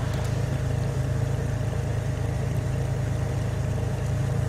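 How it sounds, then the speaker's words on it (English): Aircraft engine in a flight simulator game, throttled down to a steady, even low drone that holds constant and close throughout with no talk over it. "So I'm reducing engine throttle fully, almost fully now."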